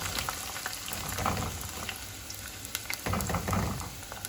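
Onions and red pepper sautéing in a pot for vegan corn chowder give a steady close sizzle with scattered stirring scrapes and clicks, no talk over it.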